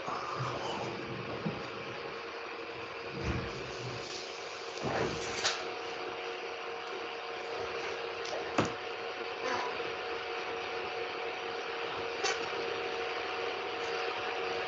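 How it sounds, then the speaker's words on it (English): Projector fans spinning up during a permaculture planning session, a steady whirring hum running throughout at low level, with scattered soft clicks and knocks nearby. "it's the projector starting to get the light bulb"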